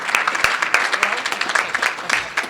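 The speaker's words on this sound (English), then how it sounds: "So let's give David a big round of applause and his panel." Audience applause at a panel event at the United Nations, a dense, steady patter of many hands clapping at close range for the whole stretch without a break.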